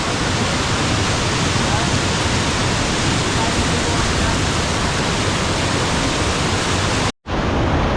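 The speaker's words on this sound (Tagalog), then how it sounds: "Umaagos yung tubig, medyo malakas yung mga suki oh." Strong water current rushes at a cave entrance during a river trek in Cagayan Valley, a loud, dense, unbroken roar close by, briefly cut off near the end before resuming.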